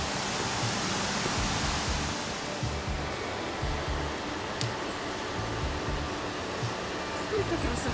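Broadband rushing of the Barite Waterfall, a steady, continuous roar of falling water on a mountain slope, filling the scene evenly from start to end with no talk.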